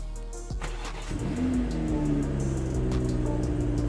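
A 2023 BMW M240i engine being rebuilt after a wreck runs close by: a steady, loud mechanical hum that builds in intensity after a brief start, with no talking.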